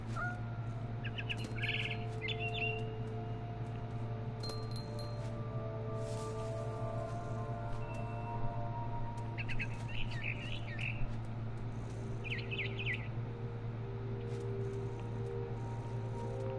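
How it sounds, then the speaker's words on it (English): Barn swallow chirping outside a window in the What Remains of Edith Finch video game, a few short bright chirp bursts spaced apart over a steady low hum and faint music. "Then I heard chirping outside my window. It was a barn swallow going back to her nest."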